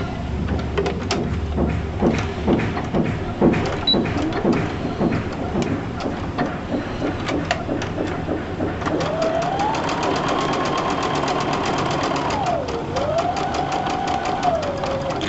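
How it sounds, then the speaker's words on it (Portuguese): Sewing machine stitching a quilt star block from pin to pin, a rapid, steady mechanical stitching rattle close by, with a rising whining motor tone in the second half. "Costura do alfinete um alfinete, e depois costura desse alfinete para esse alfinete"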